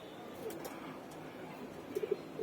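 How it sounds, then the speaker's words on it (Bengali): Pigeons cooing in a loft flock's surroundings, soft low coos scattered through steady background noise with a small cluster of calls near the end, faint and somewhat distant. "এই যে কবুতরগুলো"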